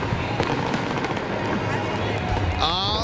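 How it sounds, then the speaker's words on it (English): Fireworks at a rainy Independence Day show in West Palm Beach crackle and pop in rapid bursts over crowd noise, with a whistling rocket rising near the end. "Ah, the fireworks."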